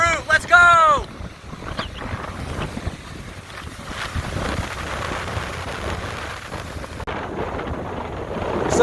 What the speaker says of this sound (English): So the wind's really picked up out of the south-southeast.